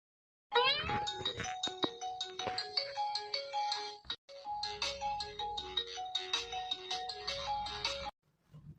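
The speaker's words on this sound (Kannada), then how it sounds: "ಇಷ್ಟೊತ್ತೊಳಗೆ ಯಾರ ಫೋನ?" A phone rings with a bright melodic ringtone, repeating its short tune for about seven seconds before cutting off abruptly.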